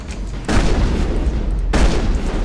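Two heavy shotgun blasts in Mass Effect combat, each a sudden loud boom that rings out with a long rumbling tail, the second following about a second after the first.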